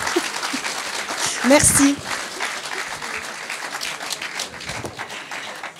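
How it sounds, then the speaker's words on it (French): Audience applause at the TOP FAB season 2 launch event, a steady crowd clapping throughout with a brief louder swell midway as someone speaks over it. "Vous pouvez applaudir."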